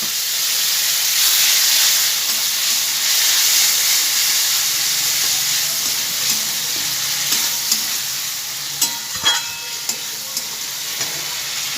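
A hot pan of Bengali cooking with garam masala powder and a splash of water: loud, constant hissing sizzle and steam, with light stirring clicks and scrapes toward the end and no talking.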